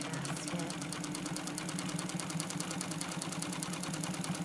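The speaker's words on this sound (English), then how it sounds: "This machine sews faster than I could ever possibly sew." A sewing machine running a zigzag stitch buzzes rapidly and steadily up close, its needle punching out a fast, even chatter of regular beats throughout.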